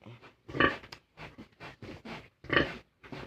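A large sow grunting close by on a farm, a series of short rough grunts in irregular bursts with brief pauses between them, two louder grunts standing out.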